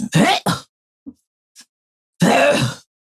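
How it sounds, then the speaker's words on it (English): Someone clears their throat in a few rough, close bursts separated by short pauses. "I need to clear my throat"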